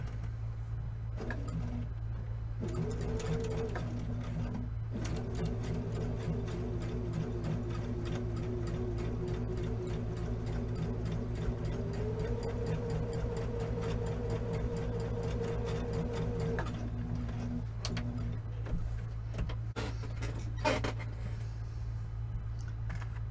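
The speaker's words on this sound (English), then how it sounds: "I'm going to sew a 1/4 inch seam" A sewing machine stitches a quarter-inch quilt seam with matched center seams on a Coxey's Camp quilt block, running in a steady fast mechanical chatter with pitch shifts and brief pauses, over a constant low hum.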